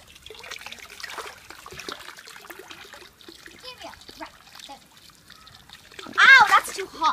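Hot water runs and splashes into a kids' paddling pool on a hot day, a steady trickle and pour with a louder splash near the end, while children and an adult talk and call out over it.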